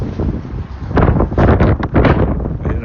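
Strong wind buffets the microphone in loud, gusty rumbles that rise and fall, with faint rustling beneath, as it blows dust around.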